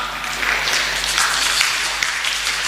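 A church congregation applauds during a Sunday service, giving steady, continuous clapping from many hands that fills the room at an even level for a few seconds.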